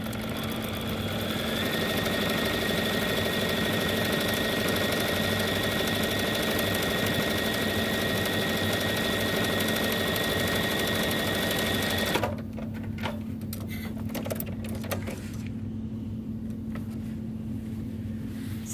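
A sewing machine runs steadily, stitching quilt-as-you-go pieces together, a continuous close whirring hum for about twelve seconds before the motor stops and leaves quieter handling sounds and a low background tone.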